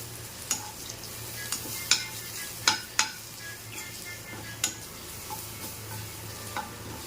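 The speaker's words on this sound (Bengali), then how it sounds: "এবার দিয়ে দেবো মিক্স মশলা, সানরাইজের মিক্স মশলা। এবার এটা ভালো করে কষিয়ে নেব।" Sunrise mixed spice masala is sautéed in a pan with banana blossom, giving a low sizzle under sharp, scattered spatula taps and scrapes against the pan at irregular intervals.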